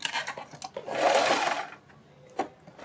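A sewing machine runs a short stitching burst along a buckram high-neck collar, joining the neck fabric with a steady whirring hum, followed by a brief separate click of the machine.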